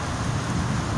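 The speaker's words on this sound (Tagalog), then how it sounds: "Ang lakas ng ulan." Heavy typhoon rain from Typhoon Paeng in Quezon City, a dense, steady roar of downpour pounding surfaces close by, continuous for the whole second with no voices.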